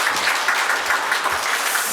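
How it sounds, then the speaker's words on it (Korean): An audience at a parliamentary forum on bioenergy applauds, a dense, even wash of clapping from many hands that holds steady and fairly loud with no talk over it. "큰 박수 부탁드리겠습니다."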